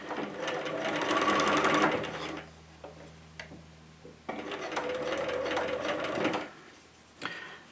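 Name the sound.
sewing machine stitching fabric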